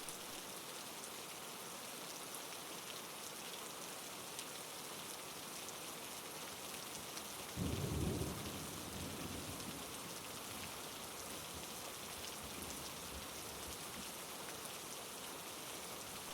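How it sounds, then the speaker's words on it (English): Steady, gentle rain falls at night in a broad, even hiss of countless drops, quiet and continuous, with one brief louder patter of drops partway through. "The rain falls steadily and quietly, each drop a whisper."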